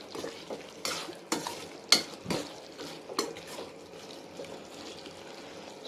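Onions and chicken cooking in a pan for a green country chicken dish, with scattered loud scraping stirs and clinks of a utensil against the pan over a low steady sizzle, heard close with no talk.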